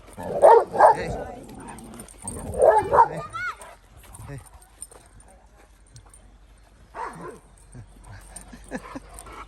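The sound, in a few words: dogs barking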